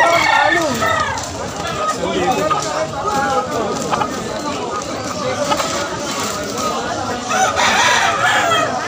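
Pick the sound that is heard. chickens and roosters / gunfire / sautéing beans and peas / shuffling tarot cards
chickens and roosters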